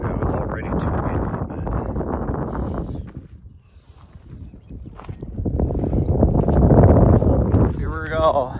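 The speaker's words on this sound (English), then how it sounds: "It's already too windy" Strong wind buffets the microphone during a trail run, a loud rushing roar that fades briefly before gusting back up, with a voice speaking over parts of it.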